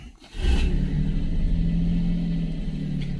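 A car engine catches and settles into a steady, loud rumble with a slight rev, close by and alone with no talk, as the vehicle sets off.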